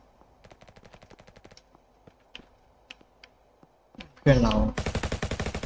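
Gunfire in the Roblox shooter RF Legacy: scattered quieter shots and bursts, then a loud close rapid automatic burst near the end, with a voice speaking briefly.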